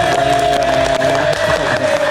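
A studio audience at a live talk show cheers and applauds loudly and continuously, with music and excited voices blended into the roar.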